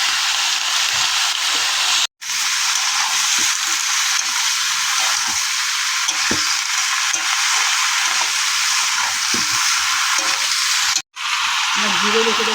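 Potatoes fry in hot oil for a silver carp curry, giving a loud, continuous sizzle close by with occasional stirring clinks and two brief cut-outs.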